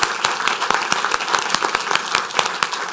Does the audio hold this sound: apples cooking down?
no